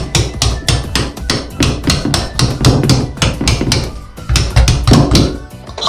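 Sharp, rapid hammer blows strike again and again in an uneven rhythm while removing a door from its hinges, loud and close, with clattering between hits.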